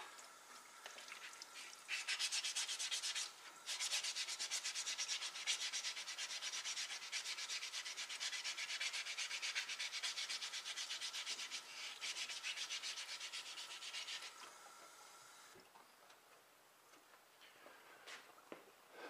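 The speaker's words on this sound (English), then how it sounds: "we're getting an even better finish on this dolly every time we sand it" Wet and dry sandpaper rubs back and forth across a metal dolly in a steady, close, continuous scratchy rasp, pausing briefly before trailing off.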